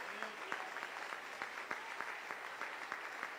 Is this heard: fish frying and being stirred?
no